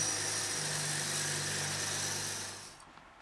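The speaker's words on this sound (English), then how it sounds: "Drill again." A power drill whirs steadily with a high-pitched motor whine while drilling for a wheelbarrow wheel mount, then spins down and stops near the end.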